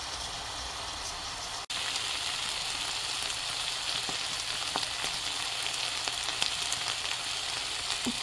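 Potatoes frying in a pan of hot oil with salt, a close, continuous crackling sizzle that starts just after an abrupt break and carries on steadily with faint pops; no talking.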